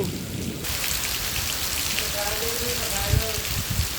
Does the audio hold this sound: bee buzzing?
no